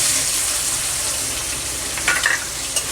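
Onion goes into hot oil with whole garam masala and tempering spices for mutton kosha, producing a loud, continuous close sizzle, with a few spatula clinks and scrapes toward the end and no speech.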